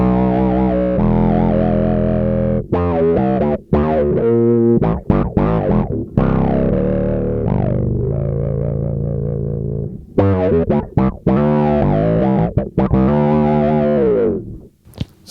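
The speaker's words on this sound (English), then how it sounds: "Sometimes you can even add a little bit of overdrive into it," Bass guitar runs through a pedal board with synth and overdrive effects, giving thick distorted, synthy notes in a continuous riff, loud and close, with no voices.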